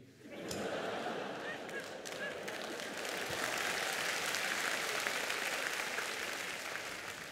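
A live stand-up comedy audience claps, a broad continuous wash of applause that swells quickly and holds steady at moderate distance, without letting up.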